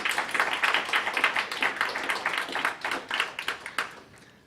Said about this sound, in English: So let's give the organizers another round of applause.